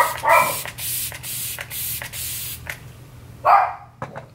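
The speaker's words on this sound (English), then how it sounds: "now I'm gonna spray my face with a Glam Glow Glow Setter" Several quick hissing spritzes of Glam Glow Glowsetter face setting spray come in an irregular series, each a short burst close to the microphone.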